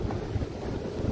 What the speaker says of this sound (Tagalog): Malamig lang, mahangin.